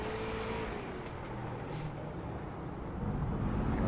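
A race car engine drones steadily from onboard with the tires working hard for traction, a continuous dense roar that swells slightly toward the end.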